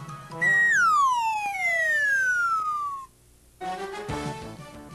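A voice imitates a slide whistle with a clear, loud whistled tone that holds briefly and then glides steadily downward for about two and a half seconds before stopping, followed by a faint, lower sound.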